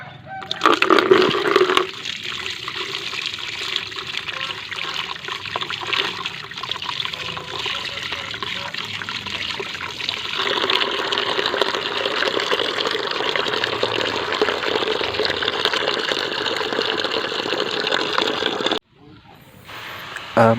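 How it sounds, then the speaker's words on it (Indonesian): Water pours and splashes steadily into a fungicide mixture being prepared against Fusarium fungus, a continuous close rushing trickle that runs for most of the clip and cuts off near the end. "Nah, kalau itu kita airin guys, kita kasih air."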